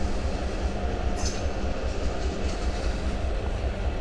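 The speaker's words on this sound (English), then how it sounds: "we're gonna film that train" A train rolls across a railroad bridge near Highway 7 in St. Louis Park, Minnesota, a steady loud rumble of wheels and cars holding for the whole stretch, close by with no talk over it.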